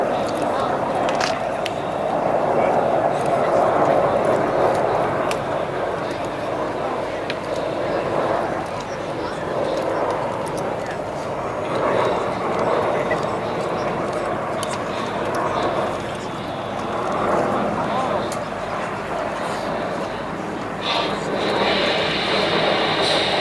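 Military aircraft flying in air show formation, a sustained mid-pitched roar that swells and fades with passing jets, with a commentator talking over it throughout.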